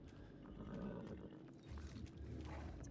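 A horse whinnies in the video game Dead by Daylight, a fairly faint neigh with some clip-clop-like movement beneath, heard alone without speech.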